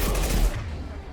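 Machine pistol gunfire from Mass Effect 2 comes as a short, loud burst of rapid shots that stops after about half a second, leaving a fading tail.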